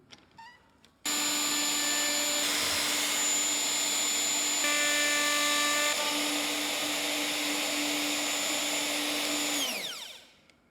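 A stone-cutting machine run along a guide cuts grooves into a heritage stone piece from the wayside; a steady, loud whine with strong tonal lines starts abruptly, holds for about nine seconds, then winds down as the blade slows.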